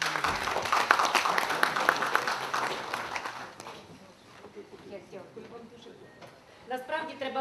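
Dense clapping from a crowd for a few seconds, then thinning out into scattered claps and background murmur, with a voice briefly at the end.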